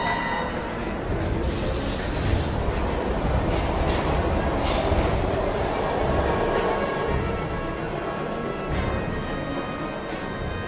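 A train in the video game Heavy Rain rumbles steadily and loudly, a dense continuous roar of rail noise with faint clattering and metallic squeal, no voices over it.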